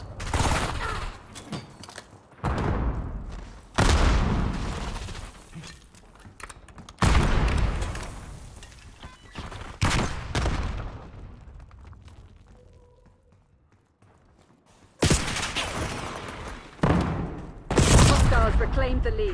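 Gunfire rips through a Black Ops 6 Kill Order team deathmatch: loud, close bursts of rapid shots come in several clusters separated by short quieter gaps, with a longer lull midway before heavy firing resumes.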